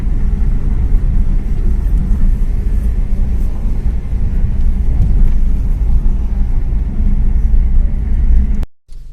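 A car rumbles steadily along a narrow jungle trail on the way to Churni waterfall, with a constant low engine and road drone that cuts off abruptly just before the end.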